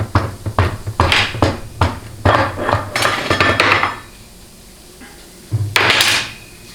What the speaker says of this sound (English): you should be able to kind of tap the output shaft out the back of the case